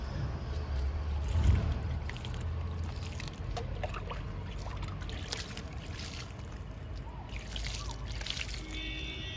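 Liquid fertilizer is poured steadily onto flowering kanakambaram plants in a garden, a soft continuous trickle and splash over a constant background hiss.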